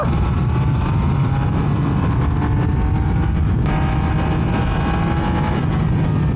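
Loud, continuous Triumph Speed Triple RS motorcycle engine rumble, held steady at a high idle throughout with a rough, throaty tone and no clear pauses.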